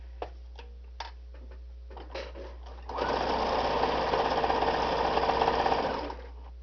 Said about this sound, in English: So let's sew this and I'll be right back.